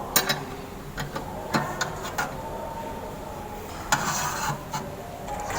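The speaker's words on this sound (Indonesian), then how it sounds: "seperti tadi kita kencangkan menggunakan double ring yang ukuran 22" A size 22 double ring spanner tightens an oil filter on a Komatsu wheel loader, producing scraping, rubbing metal clicks and rasps in short irregular strokes, close up over a low background hum.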